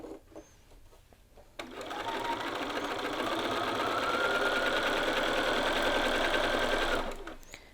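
A sewing machine stitches along the yoke seam of a garment, its fast, even mechanical whirr starting abruptly after a short pause and running steadily for several seconds before stopping, close and clear.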